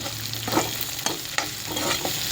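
Avarakkai thokku with coriander stirred in a frying pan: a few scraping spoon strokes over a steady low sizzle, close by, with no talking.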